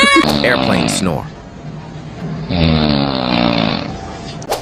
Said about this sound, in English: Airplane snore.